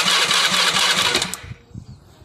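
A Honda Beat motor scooter engine runs with a loud, steady buzzing drone, then cuts off abruptly, leaving faint low knocks and rattles.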